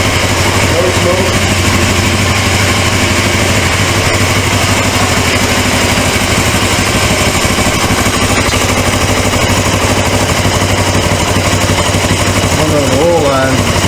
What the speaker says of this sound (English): Man, that motor turns like a kitten, but something in the transmission is making a noise.